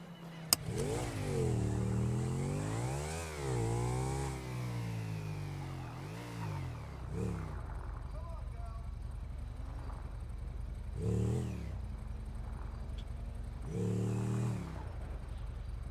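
Motorbike engine in a roleplay video game, a mid-pitched revving drone that rises and falls through several throttle swells, holding close and steady the whole time with brief bursts near the end.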